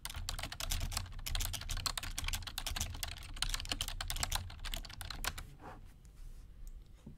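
Rapid, steady keystrokes clatter on a computer keyboard while a PTO request app is being described in Microsoft Power Apps, close and continuous before easing off near the end.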